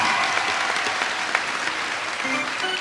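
An audience claps loudly and continuously throughout, dense and even, at a comedic kirtan performance in Marathi.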